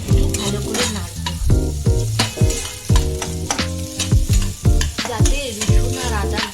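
Chopped garlic, ginger and onion sizzle in hot oil in a pan while a spoon stirs them, close and busy. A steady hiss runs under repeated scraping strokes, with tonal music-like sounds also present throughout and no talking.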